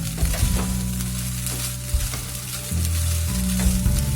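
Poha frying in a covered pan over a medium flame for Nagpur-style tari poha, a steady close sizzle with brief stirring scrapes and a low hum underneath, no voices.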